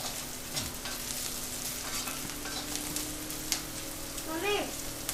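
Golden onions with turmeric frying in a pan for beetroot thoran, a close, steady sizzle broken by repeated scraping strokes of stirring.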